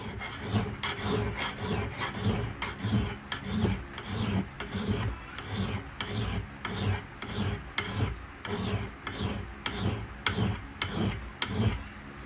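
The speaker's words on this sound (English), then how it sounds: "I'll go probably about a 45-degree angle on the filing from here on out" A hand file rasps a 45-degree secondary bevel onto a Michigan axe, steady rhythmic strokes repeating about once per half second, close and fairly loud, with no talk.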